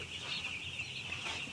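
Broiler chickens on the upper floor of a poultry house fill the air with a continuous, dense, soft murmur of clucking from many birds.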